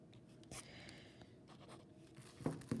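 A pencil moves across paper while a face is sketched, soft faint scratching strokes with a few sharper taps toward the end, quiet and close.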